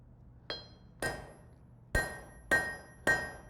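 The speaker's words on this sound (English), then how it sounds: "then with the flat side, I'm just doing overlapping, planishing blows" Five ringing hammer blows strike metal on an anvil in overlapping planishing strokes at a blacksmithing conference, each a bright metallic clang with a short decay.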